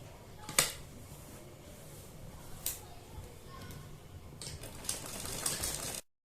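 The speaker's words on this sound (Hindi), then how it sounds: "तो इसलिए हम इसके चारों तरफ इस डिजाइन के सिलाई लगा लेंगे" A sewing machine stitches a boat neck design into fabric, running as a faint steady whir with a few sharp clicks and taps.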